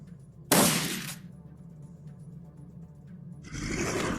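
A gun turret fires in the video game Shadowrun: Dragonfall, a loud harsh burst lasting about half a second, then a quieter stretch before a second rough blast of noise rises near the end.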